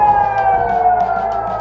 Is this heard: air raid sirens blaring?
yes